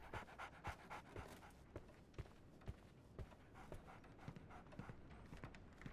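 Rapid, rhythmic dog panting close by in the video game Sherlock Holmes: The Awakened, with light thumping steps scattered through it and a busy background.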